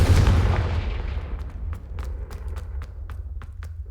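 A Confringo fire spell blast in Hogwarts Legacy: one heavy booming burst at the start that fades into a long rumbling decay, with faint crackles scattered through the tail and no talk.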